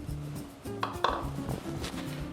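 Chopped onion tipped into a pot with garlic while cooking chickpea stew, with a few light clinks and knocks of utensils against cookware under a faint tonal hum.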